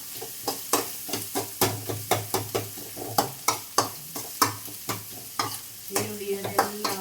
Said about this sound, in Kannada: ಈರುಳ್ಳಿ ಕಟ್ ಮಾಡಿದ್ದೇನೆ 2 ಈರುಳ್ಳಿ ಕಟ್ ಮಾಡಿ ಒಳ್ಳೆ ಫ್ರೈ ಮಾಡಿ ಆಯಿತಾ